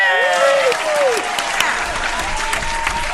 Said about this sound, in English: We got lots of applause for Miss Judy because, yeah, she's the bomb